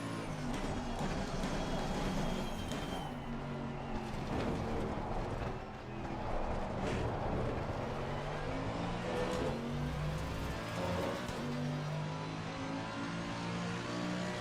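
A Mercedes race car in a sim racing game, six gears, lapping Spa and pinned at the rev limit: a loud, sustained engine drone with shifting tones and brief dips, steady throughout with no talk.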